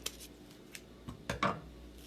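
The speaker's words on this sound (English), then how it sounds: "Folding it in half, and I am just going to cut out a whole circle." Scissors snipping a circle out of folded scrap paper, a few short close snips, sparse at first and then clustered toward the end, with no talking.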